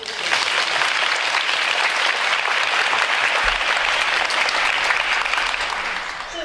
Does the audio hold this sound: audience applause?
yes